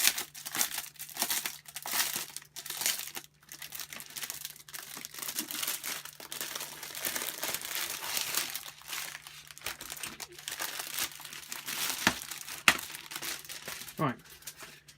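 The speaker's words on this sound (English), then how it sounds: "Let's just see if I can get into this packet. Excuse the rustling, I do apologise." Plastic packaging for an Everlasting XL wet palette crinkles and tears close up as it is handled and opened, with continuous rustling and sharper crackles throughout.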